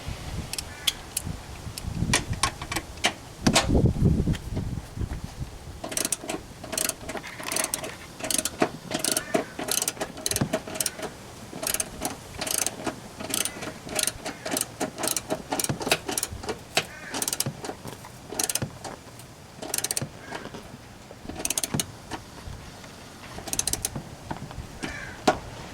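A ratchet clicks steadily and rapidly while tightening seat bolts on a GM/Chevy car seat, with close, sharp repeated clicks and occasional heavier clunks.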